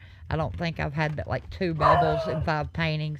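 A pet dog barks in short bursts at home while someone talks continuously over it, the yips mixed under and between her speech.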